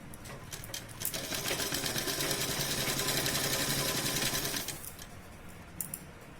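A sewing machine runs steadily for a few seconds while stitching the side seams of an A-line nighty, with a continuous whirring drone that then stops, leaving quiet room tone.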